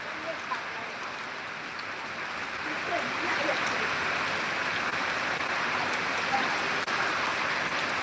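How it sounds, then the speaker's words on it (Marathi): Steady rain patters softly in the background, a constant hiss that grows slightly louder partway through, with faint voices beneath. "बघा पाऊस"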